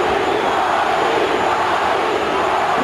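Boxing arena crowd at the Johnny Tapia versus Danny Romero fight, a loud, dense and steady roar of cheering that fills the whole stretch with no breaks or distinct voices standing out.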